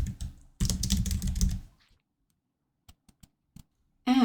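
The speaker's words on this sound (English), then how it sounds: "in the heading, I'm going to type the name of the athlete." Fast typing clatters on a computer keyboard in a dense, close burst of keystrokes, then a few isolated clicks follow after a short silence.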